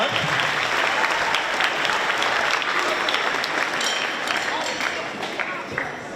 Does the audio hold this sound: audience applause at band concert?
yes